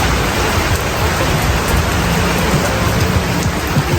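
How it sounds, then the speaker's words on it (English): Heavy rain pours outdoors in a dense, loud, unbroken hiss with no voices and no pauses. "Alright, so y'all can see that it's pouring out here."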